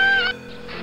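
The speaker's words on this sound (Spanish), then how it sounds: "Aquí veis cómo protestan los gansos." A short, loud honking call from a goose close by on the Tagus River in the Jardín del Príncipe, Aranjuez, Spain, then quieter background noise.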